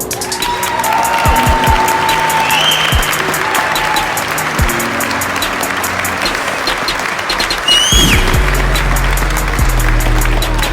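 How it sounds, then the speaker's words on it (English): An audience at a graduation ceremony applauds the valedictorian with sustained, dense clapping throughout, joined by scattered whistles and crowd noise. "Gentlemen, please join me in applauding valedictorian Mr. Bryan Warah."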